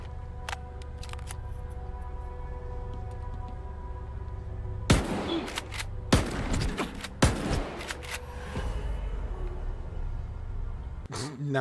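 Video game gunfire comes in several loud, sharp bursts and volleys spaced a second or so apart, then a final shot at the end, over a steady hum with faint talk in the background.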